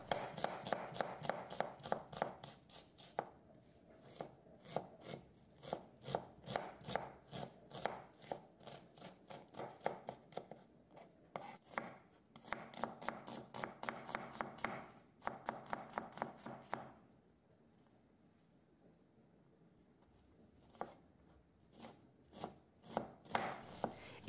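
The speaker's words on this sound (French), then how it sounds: "Ici, j'ai pris un oignon, je le coupe finement." Knife finely chopping an onion on a cutting board, rapid rhythmic bursts of close, crisp taps separated by brief pauses, with no talking.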